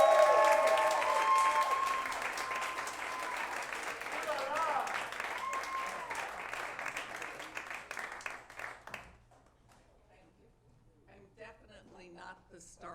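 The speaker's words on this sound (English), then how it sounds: "give a big round of applause for Katie Ford" A stand-up comedy show audience in New York applauds Katie Ford, modeling agency CEO, a broad wash of clapping that slowly fades out, followed by near quiet with faint voices talking.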